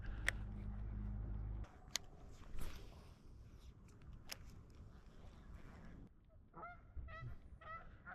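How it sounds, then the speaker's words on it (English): Geese honk and squabble beside a river, sharp harsh calls bursting out irregularly, with a cluster of rapid honks near the end over quiet outdoor background. "Got some geese fights going on beside me."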